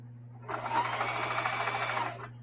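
A sewing machine runs a short burst of stitches on a camo tote bag, a close, steady mechanical whir lasting about two seconds over a low hum, with no talking.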